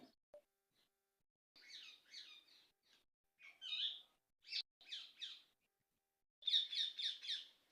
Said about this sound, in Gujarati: તો પોપટ રાજા તો મસ્ત બોલે છે